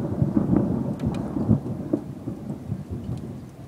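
Thunder rolling through a storm in Valencia: a loud, continuous low rumble with steady rain pattering underneath and no voices.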